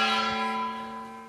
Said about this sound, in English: what about the gong?